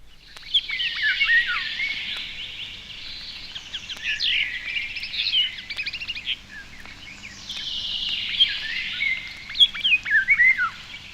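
A starling in woodland mimicking a European golden oriole, giving clear, high whistled phrases with trills and chattering notes in two bursts, close and moderately loud, with no other voices.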